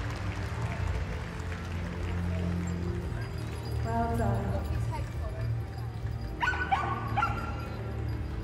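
Dogs at a Crufts trailrunners display give a few yips and barks among a busy arena crowd, with a commentator talking throughout and sharp barking bursts near the end.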